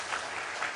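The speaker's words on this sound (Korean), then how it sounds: "우리가 감사의 의미를 모아서 박수 한번 치고 넘어가면 좋겠다는 생각이" A church congregation claps together in thanks during a Sunday service, a dense burst of many hands lasting under a second, fairly faint and heard from a distance.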